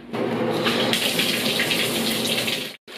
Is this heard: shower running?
yes